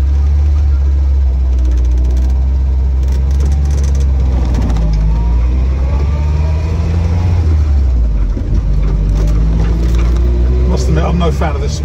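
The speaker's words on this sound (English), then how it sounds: "It's running nice and warm at the moment." A 1965 Triumph Herald 1200 convertible with a freshly rebuilt engine idling warm with a deep, steady low rumble and a slight lumpy beat, close and loud while someone talks over it.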